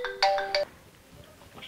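A phone ringtone plays two short, bright electronic melodic bursts in quick succession, then cuts off, leaving quiet room tone.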